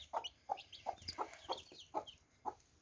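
A hen clucking close by beside her growing chicks, about seven short clucks spaced roughly half a second apart in a steady rhythm, with faint farmyard noise behind and no talking.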